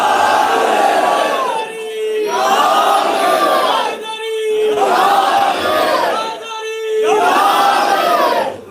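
A large crowd at a religious gathering shouts slogans in loud, rhythmic unison, with four long chanted bursts separated by short pauses and no speech in between.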